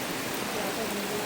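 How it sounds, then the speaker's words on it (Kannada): Rain falls steadily as a continuous, even hiss at fairly close range, with a faint voice murmuring underneath at points. "ನಾನು ಹೇಳಿದಕ್ಕೆ ಮಳೆ ಬಂತು."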